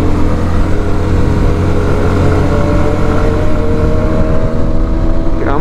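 An SYM NH Trazer 190i motorcycle engine drones loudly and steadily under acceleration in fifth gear near 6,000 rpm, with heavy wind rush over the rising engine note.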